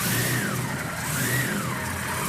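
A twelve-rotor rotary engine car revs in close, loud waves, its dense buzzing pitch rising and falling twice in quick succession.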